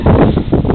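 Steady wind buffets the microphone outdoors on a farm on a chilly day, a continuous low rumbling roar with gusty swells and no other clear sounds.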